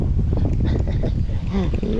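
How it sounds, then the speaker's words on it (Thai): Strong wind buffets the microphone outdoors on a fishing trip with a Rapala lure, a constant low roaring rumble through the whole moment while someone talks over it. "ลมอย่างแรง"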